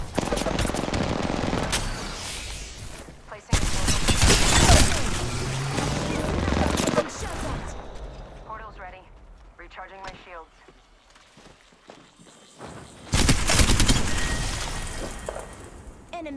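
Gunfire in the video game Apex Legends comes in loud, close bursts of rapid automatic shots, broken by quieter stretches, with voices talking in between.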